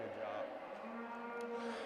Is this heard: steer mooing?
yes